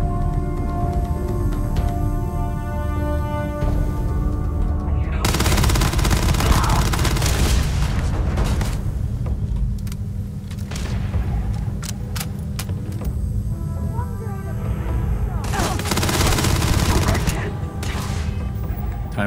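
Grendel rifle fire in Starfield, a modded PC game, as bursts of loud close shots among mechanical clatter and game effects, with a voice talking faintly at times.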